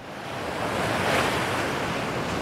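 Sea waves wash onto a beach in Bulgaria. A loud, close roar of surf swells and recedes, with some wind rumble on the microphone and no talking.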